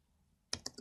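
Keys on a computer keyboard clatter in a short burst of three quick taps after a near-silent pause, close and crisp.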